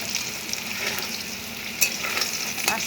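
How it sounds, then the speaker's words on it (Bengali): A spatula stirs food frying in a pan, with continuous loud sizzling and scraping, clinking strokes up close, and no talking. "খুন্তি দিয়ে নাড়াচাড়া করব।"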